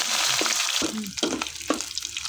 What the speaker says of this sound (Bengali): এইভাবে শুটকি ভেজে নেবেন তেল দিয়ে